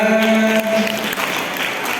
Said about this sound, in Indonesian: sekali lagi tepuk tangan untuk pemateri kita